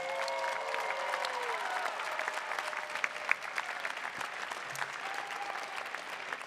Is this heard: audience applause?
yes